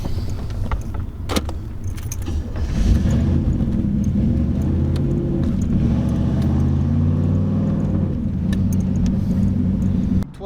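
A Camaro Z28 V8 with a crazy, unsteady idle rumbles up close, its low throb wavering and surging in uneven pulses for several seconds before dropping away at the end.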